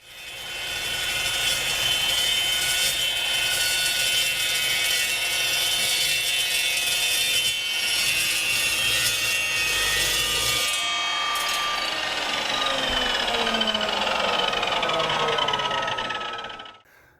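An Evolution 15 inch steel chop saw cuts through steel with a loud, sustained metallic whine and grinding, then spins down with a falling tone near the end.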